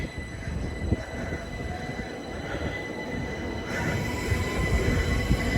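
A Southeastern Class 375 electric train, unit 375613, on a Dover Priory to London Charing Cross service at Ashford International, rumbles along the track with a rising roar and faint wheel squeal, growing louder toward the end.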